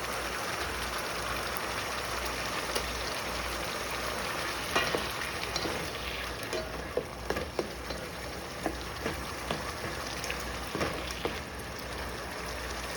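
Onions frying in a pan of thickening beef stir fry hiss in a steady, dense sizzle, with scattered clicks and scrapes of stirring rising toward the end.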